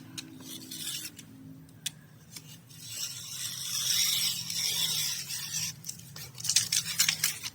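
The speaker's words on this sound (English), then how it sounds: "I'm just going to sand away all the extras around the edge on here." Excess edges being sanded off a large Easter tag home decor piece, a close, faint whirring and scratchy grinding that swells and fades in uneven passes, with no talking.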